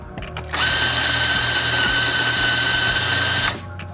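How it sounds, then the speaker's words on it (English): An espresso machine pump hums steadily for about three seconds while pulling a shot toward 35 grams, starting and stopping abruptly, close and fairly loud. "So this first shot, I'm gonna pull to, like I said, 35 grams."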